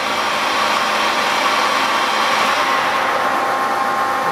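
The spindle of a Cincinnati Cinova universal milling machine runs at 1530 RPM, giving a loud, steady, even whir with a faint tonal hum throughout and no talking.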